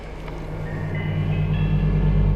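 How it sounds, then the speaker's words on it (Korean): Subway train riding along, a steady loud low rumble with a faint rising whine throughout, heard from inside the car. "약혼녀와 한 중요한 약속을 미루고 지하철에 탑승한 레이."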